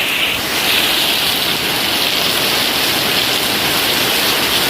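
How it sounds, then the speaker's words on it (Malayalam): Heavy rain pours down without a break, a loud, dense, even hiss close by with no voices over it. "അതുകൊണ്ട് നമ്മളൊന്ന് മഴയത്തിറങ്ങി കുളിച്ചു."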